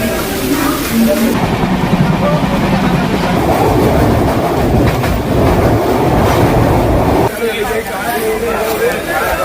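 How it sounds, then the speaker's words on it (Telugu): The Danapur Express passenger train rumbles loudly and steadily along the rails, with rattling and clatter throughout. People talk over it, and the noise eases near the end. "ఇది మన ట్రైన్ దానాపూర్ ఎక్స్ప్రెస్"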